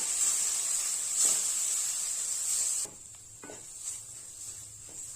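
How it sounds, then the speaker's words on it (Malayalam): Chili powder and garam masala sauté in a pan for a mushroom biryani, giving a soft hiss and light sizzle that drops quieter partway, with faint stirring scrapes. "ഇതെല്ലാം കൂടിയിട്ടൊന്ന് വഴറ്റി കൊടുക്കാം"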